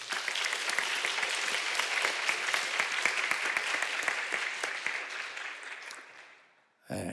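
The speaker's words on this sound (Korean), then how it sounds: "격려하는 마음으로 박수해 주시기 바랍니다" A church congregation applauds the choir and orchestra, a full, even clatter of many hands that holds steady, then gradually fades out toward the end before a brief new sound cuts in.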